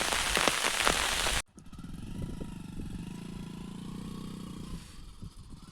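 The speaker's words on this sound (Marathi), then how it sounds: "भरपूर पाऊस पडतोय गावाला." Heavy rain pours down in a village, a steady broadband hiss that stays close and continuous throughout, with a louder burst at the very start before settling into an even wash.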